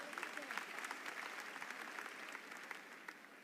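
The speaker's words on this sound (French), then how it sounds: "Il faut applaudir." A crowd at a political gathering in Côte d'Ivoire applauds, a fairly faint, steady rattle of many hands with scattered voices beneath it.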